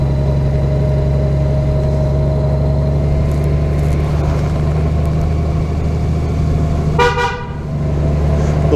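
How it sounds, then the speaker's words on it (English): A car horn gives a short double honk near the end, sounding loud and close over a steady idling engine hum, while driving through the parking lot at Red Rocks Park in the Denver mountains. "Little honk for good luck."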